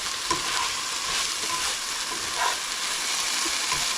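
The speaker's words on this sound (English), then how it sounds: "Pan was a little bit hot. So we're just going to stir these around till it becomes fragrant." Peppers for unstuffed peppers sizzle steadily in a hot pan while being stirred, a continuous broadband frying hiss with occasional soft scrapes, close and even throughout, no talking.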